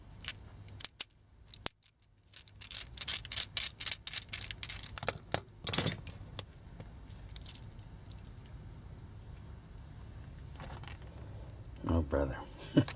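Small screws being backed out of a Takara Transformers G1 Stunticon Dead End toy, giving light metallic clicks and scrapes in short irregular bursts up close, with a quiet pause near the start and a louder rattle at the end.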